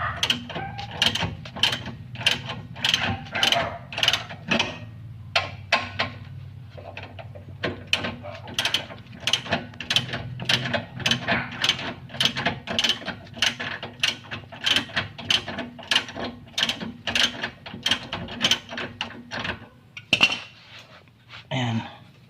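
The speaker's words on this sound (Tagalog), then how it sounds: "gamit ang 17mm na socket wrench o no, tatanggalin natin to" A 17mm socket wrench loosening the rear shock absorber bolt underneath a first-generation Toyota Vios, a long run of quick, close ratchet clicks at a steady rhythm with brief pauses between strokes.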